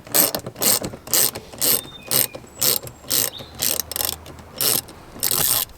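Rapid ratcheting clicks from a socket tool loosening TX20 Torx bolts on a Vauxhall Corsa VXR, about a dozen loud, close bursts in a steady rhythm, each a dense buzz of pawl clicks.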